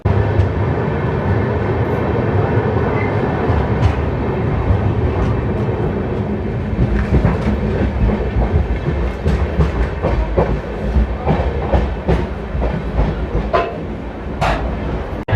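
Telangana Express passenger train rolling on rails, with a steady rumble and repeated clickety-clack wheel beats over joints, loud and close throughout and growing sharper near the end.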